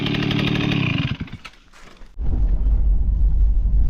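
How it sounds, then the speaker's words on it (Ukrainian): A small moped engine buzzes close by in a village, briefly drops away, then a deeper engine rumble kicks back in loudly. "цей мопед продається"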